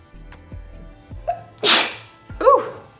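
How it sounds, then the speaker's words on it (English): Sneezing during a makeup session, with a few soft sniffs and small sounds building up to a loud sneeze and then a second, shorter one, close and clear. "Just sneeze."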